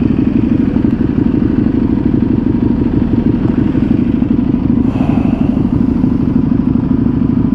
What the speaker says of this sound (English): it's a comfortable sport bike with a shit ton of torque, and it sounds badass.